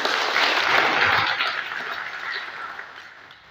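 Audience at a district event applauding, a broad, even roar of clapping that fades steadily toward the end.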